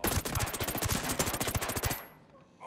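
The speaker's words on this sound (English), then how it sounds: "A lot of shots in that building." Rapid automatic gunfire rattles inside a building during a night raid in Ghost Recon Breakpoint, a dense burst of loud shots lasting about two seconds before cutting off into quiet.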